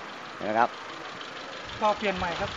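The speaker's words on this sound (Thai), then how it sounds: "ก็คันนี้ตอนนี้เสียงเครื่องยนต์อะไรอยู่ที่ปกติแล้วนะ" A Mitsubishi E-car engine idles with a low, steady hum that runs underneath someone talking in short phrases.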